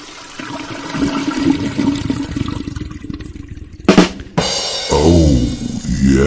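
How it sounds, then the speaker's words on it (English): A toilet flushes loudly nearby, a sudden rushing gush of water after a stretch of quieter mixed background sound, then settling into a steady swirl and refill. "And flush it right down the toilet."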